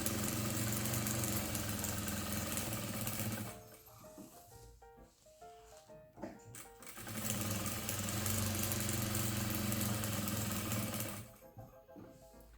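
Sewing machine running steadily while stitching a chenille cushion, two long sustained bursts close by, separated by a quieter pause where the work is turned without cutting the thread.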